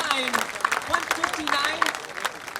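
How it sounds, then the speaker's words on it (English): An audience at a Coaches vs Cancer charity auction applauds after an item sells, giving steady moderate clapping with voices carrying over it throughout. "Let's give Ron a round of applause"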